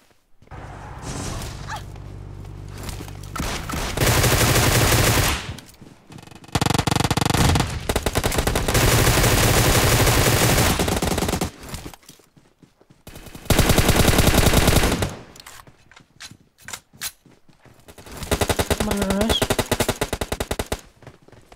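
Gunfire crackles in PUBG Mobile as several loud bursts of rapid automatic shots come in separate volleys, with quieter gaps and scattered single shots between them.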